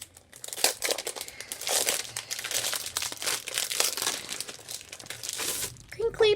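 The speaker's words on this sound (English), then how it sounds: "Crinkly paper." Crinkly paper rustles and crackles in dense bursts while a scrapbooking kit is unboxed, a 12 by 12 collection of 99 pieces, the handling close and fairly loud throughout with a brief voice near the end.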